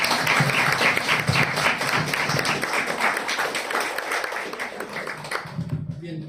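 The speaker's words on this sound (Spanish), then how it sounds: "Así que un aplauso, por favor." A university lecture audience applauds a speaker after a talk on Halloween myths, giving brisk, fairly close clapping with some crowd noise that tapers and cuts off abruptly near the end.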